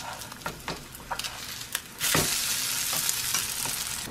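A veggie burger patty sizzles loudly in a frying pan with a little oil, the frying hiss jumping up sharply once it is flipped and staying steady, with a few light scrapes and taps before it.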